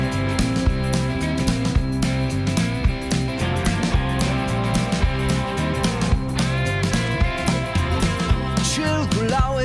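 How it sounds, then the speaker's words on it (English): A song plays as a full band mix with layered, gospel-style choir backing vocals stacked in harmony over steady guitar and rhythm. "song uses this classic kind of gospel choir sound."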